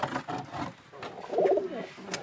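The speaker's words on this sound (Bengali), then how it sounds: "আজকে কবুতর পাল্লায় নিয়ে যাব ছাড়তে" Pigeons kept for homing releases coo close by in soft, throaty rolling phrases, with a few brief flutters and chirps, no talk over them.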